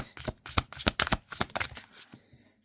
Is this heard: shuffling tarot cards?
yes